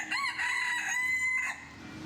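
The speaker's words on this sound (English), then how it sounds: "you can sometimes hear this guy crowing away inside" A rooster crows once inside a market in Cambodia, a single clear, fairly close cock-a-doodle-doo over quiet surroundings.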